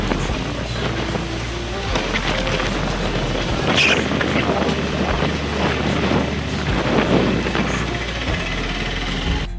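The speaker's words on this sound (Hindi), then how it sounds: "भाई साहब इतना जोर से आंधी आ रही भाई साहब देख लो।" A strong storm wind blows hard under darkening black clouds, roaring steadily and buffeting the microphone with heavy low rumbles for the whole stretch, with no voices.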